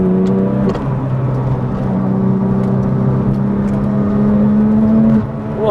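A Porsche GT2 engine pulls hard under acceleration, a loud, close, continuous drone with a strong steady tone that holds for several seconds before easing off near the end.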